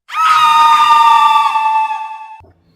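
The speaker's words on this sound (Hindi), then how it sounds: "बहुत सी खौफनाक चीखों से पूरा जंगल लरस गया" A single long, piercing scream swells and then fades out over roughly two seconds, loud and close with a slight echo, forming part of a frightening forest scene in a Hindi-language audio drama.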